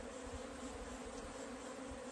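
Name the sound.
swarm of bees buzzing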